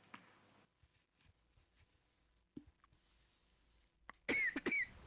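After mostly quiet moments with faint small noises, a person lets out two loud, harsh coughs close up near the end.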